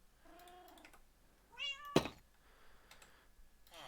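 Pet cats meow a few times at moderate distance, a short rising mew early on and a clearer one just before a sharp knock or click, with quiet room tone and faint tapping around them.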